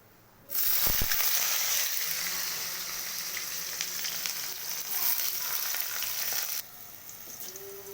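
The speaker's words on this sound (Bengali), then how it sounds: "এবার আমি উচ্ছেগুলো ভেজে নেব।" Bitter gourd pieces frying in hot oil while a Bengali sukto is being cooked. A loud, steady sizzle starts abruptly after half a second, crackles throughout with occasional stirring clinks, then drops to a softer hiss near the end.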